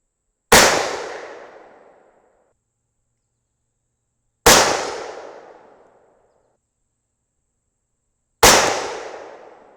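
Three sharp, loud 6mm rifle shots fired with a Reloader 17 load, spaced about four seconds apart, each a sudden crack followed by a fading echoing tail and silence between.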